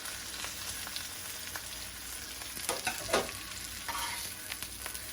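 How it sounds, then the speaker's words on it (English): Collard greens sizzle lightly in a frying pan, a steady low sizzle with occasional stirring clicks and scrapes, fairly quiet and close. "I just wanted to do a light sizzle on the collard greens."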